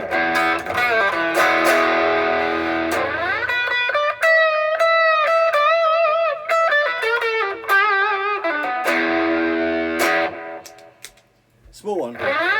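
An electric guitar through an overdrive pedal with reverb plays weird lead lines, sustained distorted notes and bends ringing out loud and close, trailing into a decaying tail.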